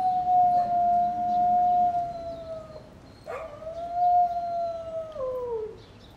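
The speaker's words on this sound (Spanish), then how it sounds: "encontré el perrito que estaba llorando. Mírenlo, es un husky siberiano" A Siberian husky cries and howls in two long, wavering, mournful howls that slide downward at the end, close and loud against quiet surroundings, with no talking.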